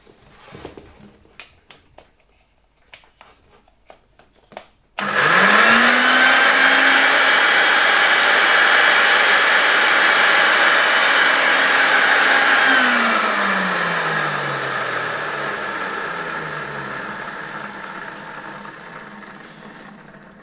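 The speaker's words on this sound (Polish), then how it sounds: "Zobaczmy działanie tej suszarki." A 1959 Syrenka vacuum cleaner, a Polish copy of the German Kobold, is run as a hair dryer. It switches on abruptly after faint handling clicks and roars loud and steady close up, with the motor whine slowly dropping in pitch.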